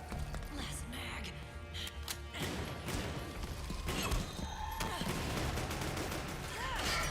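Gunfire in a video game comes as quiet bursts and volleys mixed with mechanical clatter, with a player talking over the shooting throughout.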